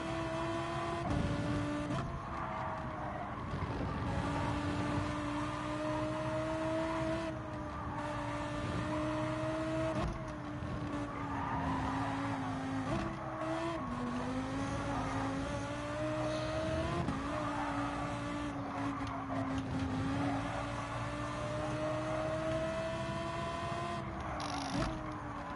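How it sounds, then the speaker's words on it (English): A Lamborghini GT3 race car with a naturally aspirated V10 in the Gran Turismo 7 video game, its engine droning steadily and rising and falling through gear changes for a long continuous stretch, loud and close with no talk. "I just love that naturally aspirated V10 engine sound"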